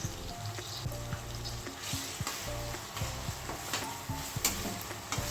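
Fresh green peas stir-fried with the dal khichdi mixture sizzle in a pan while a spoon scrapes and taps rhythmically against the metal, with a steady frying hiss underneath.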